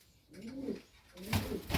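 Pigeons coo inside a loft in a few rolling, throaty calls, close by and moderately loud, the last ones swelling stronger against a soft background.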